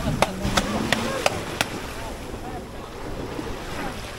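A boat rocks and slaps on choppy sea waves near Phi Phi Island in Thailand, with a steady wash of water and wind buffeting the microphone, plus a few sharp knocks of the hull early on.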